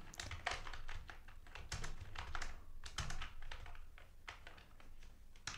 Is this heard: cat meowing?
no